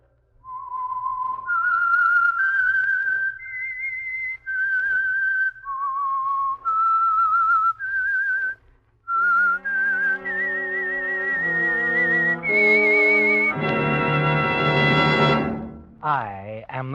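The whistled signature theme of The Whistler, a CBS old-time radio mystery program, rises and falls as a lone melodic whistle, then swells into a full orchestral statement of the same tune.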